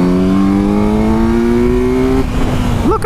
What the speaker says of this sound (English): Look at me, full throttling out.